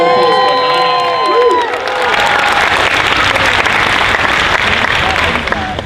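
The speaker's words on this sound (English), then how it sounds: "One more round of applause." A convention crowd at a Dragon Con costume contest in Atlanta claps, cheers and whoops loudly and continuously, a dense roar of applause with shouts mixed in, a fading tonal musical sting at the start.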